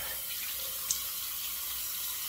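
Tap water runs steadily at moderate level for rinsing shaving cream off a razor after a head shave, a smooth continuous hiss with one brief splash.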